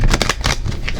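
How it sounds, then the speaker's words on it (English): Tarot cards are shuffled by hand up close, a quick loud burst of riffling flicks and slaps lasting about a second. "One more shuffle"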